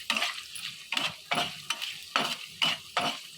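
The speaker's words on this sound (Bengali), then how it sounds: "আবারও একই প্রসেসে আমি নেড়ে নেব।" Vegetables with salt and whole cumin stirred in a pan for a poppy-seed cauliflower and potato dish, a regular series of about eight scraping spoon strokes with faint sizzle between them.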